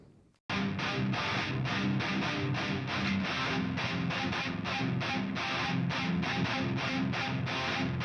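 A double-tracked distorted rock guitar chugs out a dense, driving riff, with two recorded takes stacked into one thick wall of sound. It starts abruptly and stays loud and steady throughout, with no voices.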